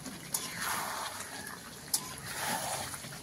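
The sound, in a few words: water being poured into chicken curry in a pan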